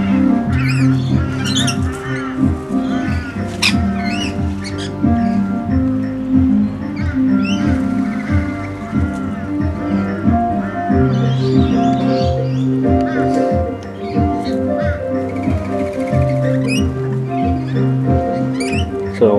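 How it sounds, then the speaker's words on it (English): A flock of about thirty scaly-breasted lorikeets in a bird sanctuary squawks and chatters continuously, loud, close shrill calls overlapping, with rustling and other bird sounds mixed in. "of about 30 scaly-breasted lorikeets"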